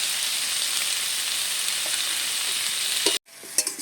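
Tangra fish curry with pui shak, taro stem and potato, seasoned with salt and turmeric, sizzles steadily in a pan as it is stirred, a continuous hiss that cuts off abruptly near the end and then resumes.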